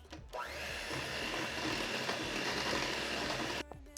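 An electric mixer whirs through olive oil cake batter, a loud, steady motor drone that starts abruptly, holds for about three seconds and then cuts off.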